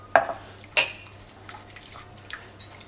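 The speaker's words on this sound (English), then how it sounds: "Once the water is in, you can stir everything" A spoon knocks and scrapes in a pot of rice pilau with water, salt, pepper and spices, giving two distinct clinks followed by faint stirring and liquid sounds, quiet and close, with no voices.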